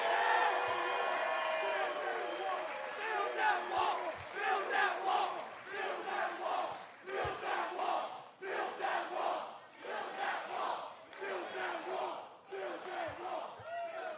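Large political rally crowd in Newtown, Pennsylvania cheering and chanting in rhythmic surging waves, loud and dense, with whoops and shouts rising and falling throughout.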